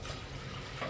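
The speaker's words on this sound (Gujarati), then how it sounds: "એમાં આપણે પાણી નાખશું" One glass of water poured into a pressure cooker holding urad dal, a short close splashing fill that swells slightly at the end, with no voices.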